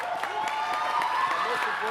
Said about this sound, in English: So I think a round of applause for them as well.